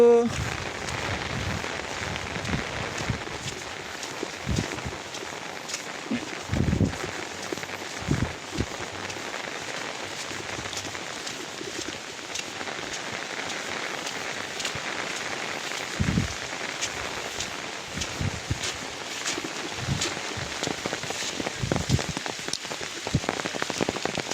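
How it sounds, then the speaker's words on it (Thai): Rain falls steadily on surfaces outdoors in rural farmland, a constant hiss with scattered heavier drops and patters, while people speak briefly beneath it. "ฝนตก"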